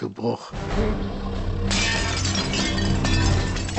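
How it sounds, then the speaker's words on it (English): A window pane shatters loudly and keeps crashing and tinkling in a long, dense burst of breaking shards, with voices mixed underneath. "Suddenly there was a clattering, and the window pane shattered."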